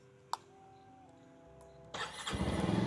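Bajaj Pulsar 150 motorcycle engine starts up: a quiet stretch with a click, then the engine catches near the end and builds into a loud, steady rumble.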